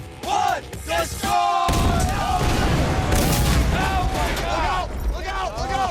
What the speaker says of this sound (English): The C4 is loaded. Give the countdown. We'll see an explosion.